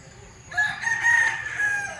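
A rooster crows once, close and clear, rising and holding its call for about a second and a half against a quiet yard where chickens roam freely around a house in the Philippines.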